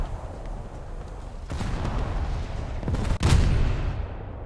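Naval gunfire in a World of Warships-style battle set at Midway, heard as a continuous dense roar of distant artillery with a sharp, louder blast near the end.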